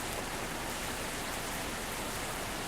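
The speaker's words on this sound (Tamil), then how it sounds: "அதுக்கே மழை பெய்யுது" Steady, dense hiss of rain falling during a friends' road trip near Tiruppur, a constant wash of drops with no breaks and no voices over it.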